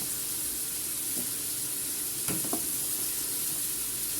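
Crushed garlic with ground pepper sizzling steadily in a frying pan, a constant close hiss of hot oil with a few brief clinks of utensils partway through.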